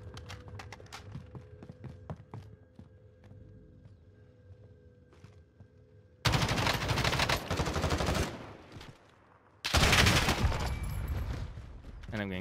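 Video-game gunfire in Warzone: after a quieter stretch with faint scattered shots, two long, loud, dense bursts of rapid automatic fire erupt close up.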